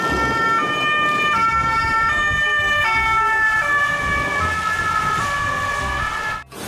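A toy police car plays an electronic two-tone siren, cycling up and down in a clear repeating pattern, close and fairly loud, then cutting off abruptly near the end.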